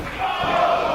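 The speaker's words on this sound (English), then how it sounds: "An appreciative crowd here in Queens." A wrestling crowd in Queens roars in a brief, loud, sustained swell of cheering and shouting at a live independent match, a dense wash of voices with no clear speech on top.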